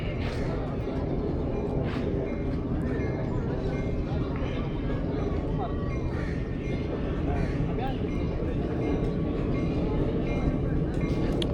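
A Jaffar Express passenger train running on rails between Attock and Rawalpindi gives off a steady, loud rumble and rattle of carriages that holds for the whole stretch, with murmured voices under it.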